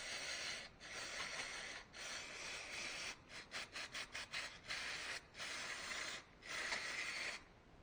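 Brake cleaner sprayed onto a Honda CBF 125 motorcycle piston in a series of hissing aerosol bursts, first longer sprays, then a run of short rapid puffs, then a few longer blasts, close up with no talking.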